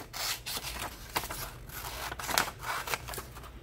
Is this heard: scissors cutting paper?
yes